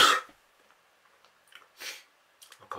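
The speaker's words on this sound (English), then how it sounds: "I coughed and sneezed at the same time." A single sharp, explosive combined cough and sneeze right at the start, followed by a few quiet breaths and small throat sounds.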